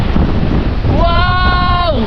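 Strong wind buffets the microphone in a loud, continuous low roar, while a voice cries out in excitement over it for the second half.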